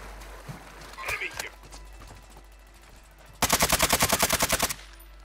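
Video-game gunfire comes as a sharp, loud rapid burst of about a dozen evenly spaced automatic shots near the end, after quieter scattered sounds and a few people talking.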